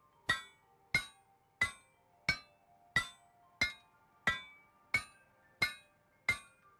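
A ball peen hammer strikes metal during smithing in the video game Project Zomboid, ringing ten evenly spaced metallic blows, each sharp and clear with a short decay.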